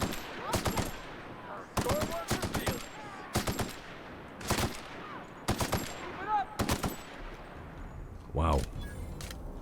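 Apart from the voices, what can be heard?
gunfire from shooting an enemy in the video game The Outer Worlds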